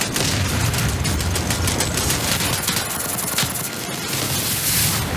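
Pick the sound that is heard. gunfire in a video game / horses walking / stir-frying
gunfire in a video game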